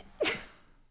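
A single sharp sneeze bursts out close to the microphone and decays quickly into quiet.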